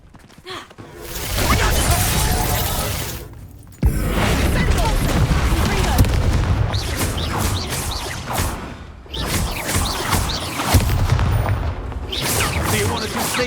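Expulso explosion spell in Hogwarts Legacy, heavy booming blasts with rumbling magical bursts, loud and repeated in a chaotic duel soundscape, with brief gaps between the waves of impact.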